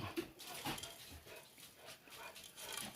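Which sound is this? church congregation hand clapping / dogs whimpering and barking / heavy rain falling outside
dogs whimpering and barking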